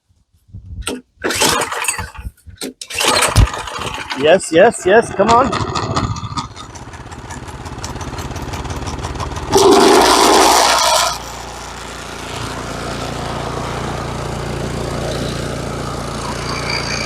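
A Craftsman 24-inch two-stage snowblower that hasn't run in a while coughs through several pull attempts, sputters, then catches and settles into a steady, loud run while a voice urges it on.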